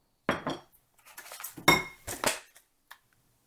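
A large bowl and dishes clinking and clattering while a beet salad is assembled, several sharp separate knocks and clinks with quiet gaps between, close and dry.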